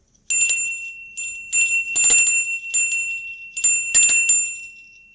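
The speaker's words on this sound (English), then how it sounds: "now I have to ring this right, okay, is this is an Om bell too" A small Om bell struck several times in a loose rhythm, each clear, high ring shimmering briefly before the next strike; close and fairly loud.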